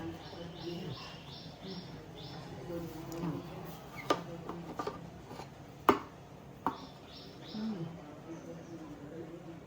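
Fresh ginger is chopped into pieces, with a few sharp, close knife knocks against a board in the middle stretch over quiet background noise, soft chirpy tones and faint voices.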